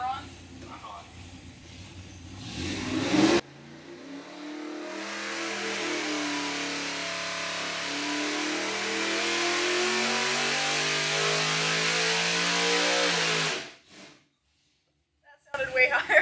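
A 416-cubic-inch LS3 V8 on a dynamometer climbs in a long, steady wide-open pull toward 7,000 RPM, loud and close, rising in pitch for about ten seconds before cutting off abruptly; brief talk comes before and after.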